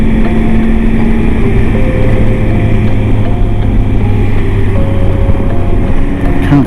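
A Triumph 800 motorcycle engine drones steadily while riding, a loud, constant hum with low throbbing tones and some wind rush, uninterrupted throughout.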